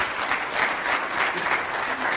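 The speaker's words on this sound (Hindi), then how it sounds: "एक बार जोरदार तालियां महेश कटारे जी के लिए।" An audience at a Hindi literary award ceremony in Canada claps loudly in honour of an awardee, a dense, steady round of applause that fills the whole moment with a slight pulsing swell and no speech over it.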